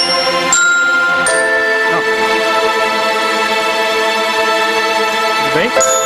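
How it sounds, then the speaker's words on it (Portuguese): Bright bell-like chimes ring out in a Brazilian stage production of the musical Hairspray, with sustained tinkling tones and sweeping glissandi layered over orchestral accompaniment, loud and continuous throughout. "Eu escuto os sinos!"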